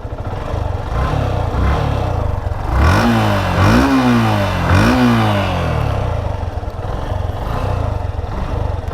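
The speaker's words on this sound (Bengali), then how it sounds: "Let's start the engine." A Yamaha Fazer FI V2 150 motorcycle engine idles steadily, then revs up sharply three times in quick succession before settling back to a close, loud, humming idle.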